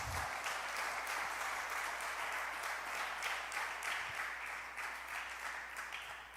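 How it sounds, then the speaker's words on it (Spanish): Church congregation giving a strong round of applause, dense steady clapping heard at a distance and fairly faint, sustained for several seconds and tapering slightly toward the end. "¿por qué no le da un fuerte aplauso a Jesús?"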